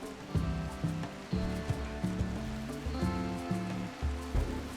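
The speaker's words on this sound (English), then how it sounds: "Well, it's raining." Rain falls in the video game RimWorld as a soft, steady hiss of patter beneath a louder layer of tonal in-game music.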